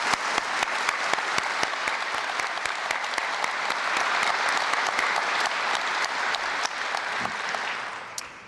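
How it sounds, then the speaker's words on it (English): Sustained audience applause at a Remembrance Day ceremony inside a warplane heritage museum, loud and steady for several seconds with dense clapping, tapering slightly near the end. "Can we have a round of applause for Chris Tucson for conducting?"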